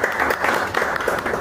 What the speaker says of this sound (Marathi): टाळ्या स्वागत।